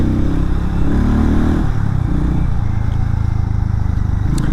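A Hero Mavrick 440 motorcycle rides through a small lane, its engine giving a loud, steady low rumble with a brief shift in pitch partway through.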